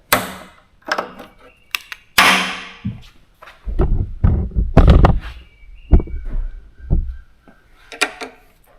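Wrench work loosening and removing two 3/8 bolts that hold the carburetor on a surging push mower engine: a series of sharp metallic clicks, clanks and knocks at irregular intervals, close up, with no talking.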